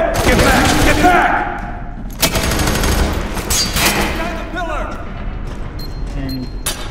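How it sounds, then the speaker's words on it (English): Dense automatic gunfire from a FEAR 3 firefight, with loud sustained bursts and echoing shots that keep going throughout, and shouting voices underneath. "Suppressing fire!"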